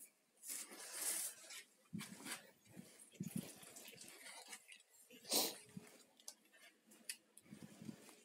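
A tap runs water into a bath in a home, a soft intermittent splashing and trickling with light ticking sounds, fairly faint and close.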